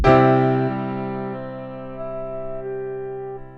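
A held chord on a sustained keyboard tone, with individual notes swelling to the front one by one, stepping down and back up within the sound.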